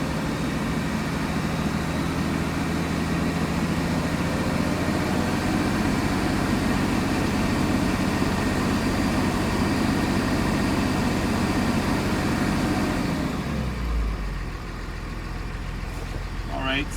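A 2006 Cummins diesel engine runs as a heavy, steady drone that climbs toward 2000 rpm, holding a loud roar for most of the stretch before cutting back sharply near the end.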